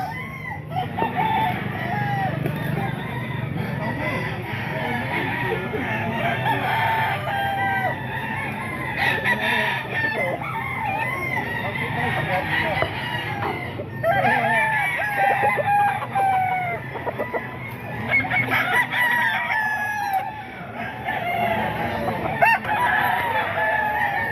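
Roosters crow again and again at a busy chicken market in Grotto, with overlapping calls near and far, clucking fowl and a steady crowd murmur under them.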